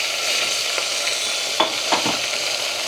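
Vegetables being tempered in hot oil with asafoetida give a steady, close sizzle, with a few soft stirring scrapes partway through and no voices.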